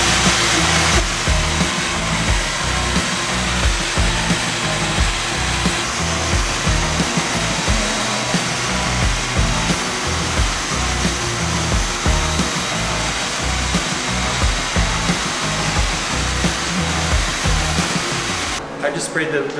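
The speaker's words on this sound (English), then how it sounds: "I just sprayed the metal etching on and all the bare metal." Steady loud hiss of an aerosol spray can applying metal etching primer to bare metal patches on a tiny house on wheels, sustained and close with brief breaks, voices faintly audible beneath.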